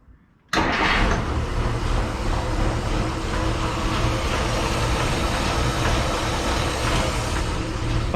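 An abandoned 1953 Plymouth Cranbrook, fresh oil, plugs and wires after more than 25 years sitting, cranks and fires abruptly, then settles into a loud, steady, slightly rich idle close by.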